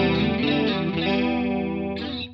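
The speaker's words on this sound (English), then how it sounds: "Not too warbly, not too kind of, yeah, too much movement, but nice and thick and chorusy." An electric guitar plays through a Mooer Ensemble King analog chorus pedal, modelled on the CE-2, set for a thick, lush chorus without too much warble; sustained chords shimmer steadily and loudly with no talking.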